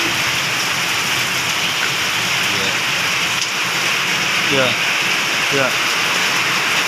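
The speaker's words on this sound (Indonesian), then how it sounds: "Sambil nunggu dah hujan." Heavy rain pours in a constant loud roar, a dense hiss filling the whole clip, while several voices talk briefly over it.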